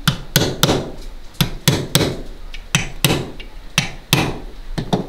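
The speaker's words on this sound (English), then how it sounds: "I can go ahead at this point, drive the rest of my pins, the remainder in." Pins hammered into an H&R Pardner .410 single-shot shotgun during reassembly, about a dozen sharp metallic taps in irregular bursts, close and loud with brief pauses between strikes.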